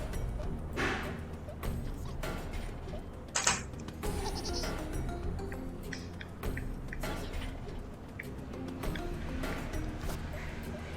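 Sheep bleating in a video game, several bleats at moderate volume over a steady background of game sounds, with sharp clicks and a brief tonal chime partway through.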